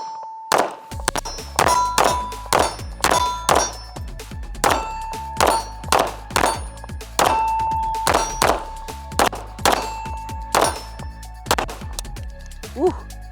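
Shots from an RCD Defense Core 4.6 rifle striking steel targets, a steady string of sharp reports each followed by a ringing metallic clang, spaced about half a second apart, loud and near.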